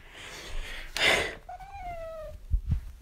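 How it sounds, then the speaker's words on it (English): A cat in the video game Kirby's Return to Dreamland lets out a single drawn-out, slightly wavering meow, following a breathy burst of noise and trailed by soft thumps. "Isn't she so cute when she does that meow?"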